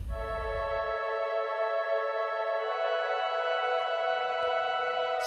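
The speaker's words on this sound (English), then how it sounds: "And in the chorus we have an organ sound." An organ sustains bright, steady chords, high-passed to remove low end, holding evenly for several seconds with no talking.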